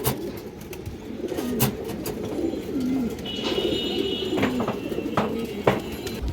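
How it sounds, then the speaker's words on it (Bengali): A pair of silver pigeons, a hen and a cock of a flying line, cooing repeatedly in soft rolling calls close by, over a busy background of faint chirps and noise. "খুবই সুন্দর একটা সিলভার কৌতর যে দেখেন সামনেটা মাদি কৌতর দর্শক এটা মাদি কৌতর পিছনটা নর কৌতর"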